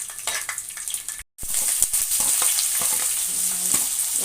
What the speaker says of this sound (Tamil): கடுகு பொரிஞ்சது வெந்தயம் கொஞ்சமாக ஆட் பண்ணிக்கலாம். பூண்டு 4 போட்டுக்கலாம்.